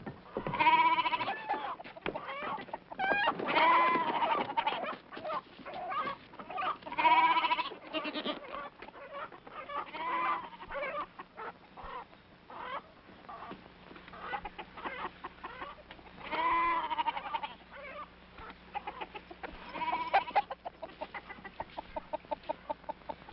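Agitated goats bleat and chickens cluck together in a farmyard, a busy overlapping chorus of calls rising and falling across the span, moderately close and without speech.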